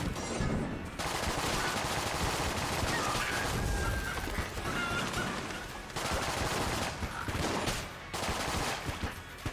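Bouncing gunshots in the bullet-hell video game Enter the Gungeon, dense rapid bursts of gunfire crackling almost continuously with brief gaps, loud and busy.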